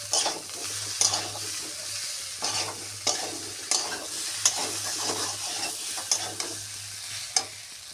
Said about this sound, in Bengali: দিয়ে একটু ভালো করে ফুলকপি আলু একসঙ্গে একটু কষিয়ে নেব।